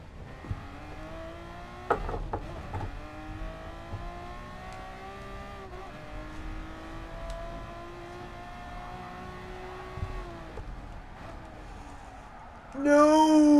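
A Ferrari race car engine in GT Sport on the old Le Mans layout drones continuously and close, holding its pitch with brief shifts and dips, then flares louder near the end, with someone talking over it.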